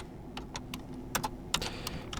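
Fast typing on a computer keyboard at a desk, a quick irregular run of close, crisp key clicks over a low steady room hum, with no talk.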